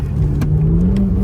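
A BMW 1M Coupe with a slight tune accelerates hard, its engine a loud, close, continuous drone whose pitch climbs steadily through a brief burst of throttle.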